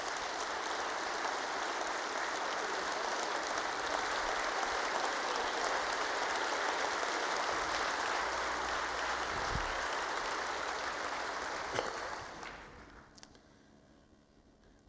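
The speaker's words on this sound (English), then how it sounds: "So please give them a great round of applause." Sustained applause from a large crowd at a State of the State address, steady and full for about twelve seconds before fading out.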